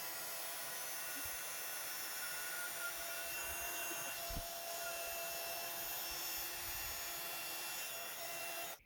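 Heat embossing gun blowing hot air from underneath a craft piece with gold embossing powder, a steady loud whoosh that runs without a break for about nine seconds and then cuts off sharply at the end.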